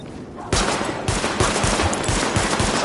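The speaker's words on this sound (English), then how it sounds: "Weapon test initialized. Open fire at the highlighted targets." Sustained rapid gunfire in the video game The Division during a weapon test against highlighted targets, loud and continuous bursts with dense repeated shots for nearly three seconds.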